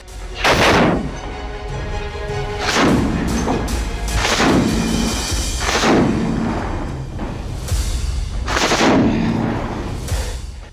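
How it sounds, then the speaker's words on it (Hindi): Heavy booming gunfire from the Russia-Ukraine war repeats every couple of seconds, loud and close, each blast rolling into a brief echo, with a steady rumble between them. "लगातार आ रही गोलियों की आवाज।"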